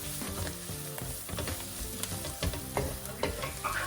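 Belgian-style mussels with celery cooking in a pan, a continuous close sizzle with repeated scraping and clinking stirs; no talking.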